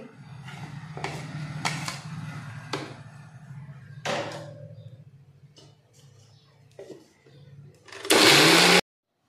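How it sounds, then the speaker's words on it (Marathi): A mixer grinder blends roasted onion and tomato into a thick paste, starting with a short loud whir near the end after quieter clinks and handling sounds. "1 टोमॅटो पण याच्यातच बारीक करून घेते।"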